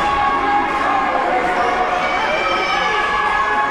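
Crowd of fans at a football match in a cup final, a steady loud wash of cheering and shouting voices filling the whole stretch, with bits of nearby talk mixed in.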